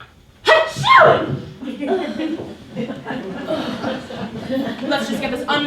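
A single sudden sneeze near the start, loud and close, followed by someone speaking in a formal setting before guests.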